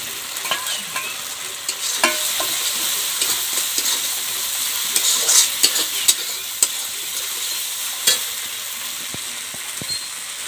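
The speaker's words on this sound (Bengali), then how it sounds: "তারপরে দেব আদা রসুন বাটা।" Ginger-garlic paste fries in a pan for a Bengali-style fish curry (macher jhol), giving a steady close sizzle broken by scattered clicks and scrapes of stirring throughout.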